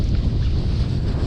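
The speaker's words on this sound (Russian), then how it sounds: "Ветрище сегодня, конечно, на заглядение" Strong wind buffets the microphone out on a frozen river during ice fishing, a loud continuous low roar and rumble with no other sounds.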